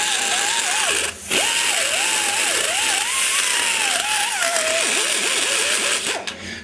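Grinder whining steadily at high speed while porting an aluminum LT-1 cylinder head, the pitch dipping and rising as it works the corners, with a brief pause near the start.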